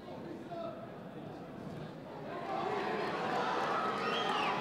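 Crowd at a 130 lb title boxing bout swells into a rising roar of cheers, growing louder over several seconds and mixed with a broad wash of voices.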